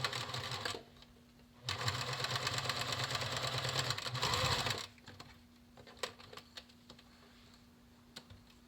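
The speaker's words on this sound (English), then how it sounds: "you're going to stitch it shut." A sewing machine stitches a fabric face mask shut in two runs, a short burst then a longer steady whir, followed by quiet handling clicks.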